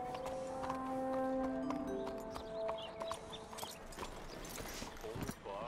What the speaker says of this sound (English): Let's put my horse on the other side.